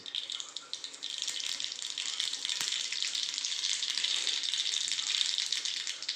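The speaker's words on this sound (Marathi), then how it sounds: "आता त्याच्यामध्ये मी मोहरी टाकणार आहे मोहरी चांगली उडू द्यायची" Mustard seeds sputter and crackle in very hot oil in a pan, a dense, steady sizzle with scattered pops that runs close and loud for the whole stretch, with no talking.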